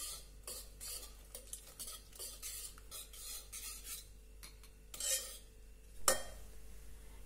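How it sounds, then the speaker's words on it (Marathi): Cooked sorrel leaves with jaggery and gram flour are stirred in a pot with a spoon, making soft, repeated scraping strokes close by, with a couple of louder knocks near the end and no talk. "बेसन पीठ आणि हे व्यवस्थित मिक्स करून घेऊ."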